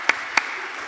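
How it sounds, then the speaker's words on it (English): Start of audience applause at a pharmacology conference, two distinct loud claps followed by a soft spread of scattered clapping, brief and close, with no speech. "a round of applause for Professor Mori"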